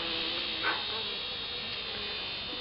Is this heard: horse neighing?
no